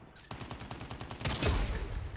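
Rapid gunfire in a Call of Duty battle royale match, a quick burst of repeated shots building into a louder volley.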